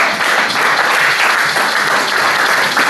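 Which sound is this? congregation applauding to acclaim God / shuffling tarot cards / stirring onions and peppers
congregation applauding to acclaim God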